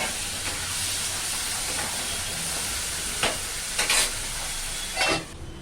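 Potatoes fry in a pan for a Bengali dish, a steady close sizzle broken by several scraping stirs near the end.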